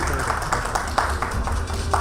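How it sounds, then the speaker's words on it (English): An audience at an industry panel session applauds the moderator, producing brief, dense clapping with a few sharper claps standing out, heard close and continuous. "Warm round of applause everyone for Rahul Puri."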